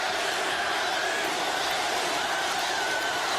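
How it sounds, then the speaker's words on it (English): A thinned-out football stadium crowd starts a chant for the Tigers late in the fourth quarter, a distant, diffuse murmur of voices that stays faint and even throughout. "The crowd that remains finally beginning a chant for their Tigers."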